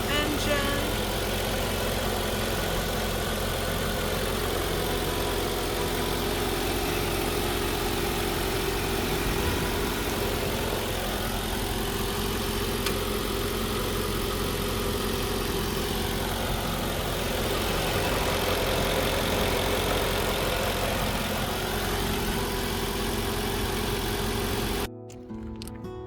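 A 2005 Mercedes-Benz S 55 AMG engine idling with a steady, continuous low hum and rumble that holds evenly before cutting off abruptly near the end.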